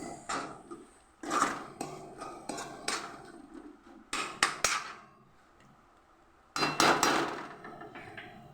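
A spoon or spatula stirring chicken curry with tomato in a pan gives a run of knocks and scrapes against the metal in short bursts with pauses between them, close by and with no talk.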